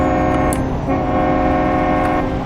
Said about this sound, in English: Got me a train horn.